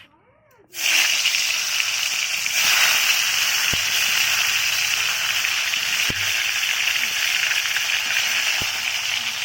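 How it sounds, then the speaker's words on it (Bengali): After a brief quiet start, a loud, steady hiss of cauliflower, rubbed with salt and turmeric, frying in hot oil fills the clip, with faint occasional clinks. "ফুলকপিগুলো ভাজা হচ্ছে"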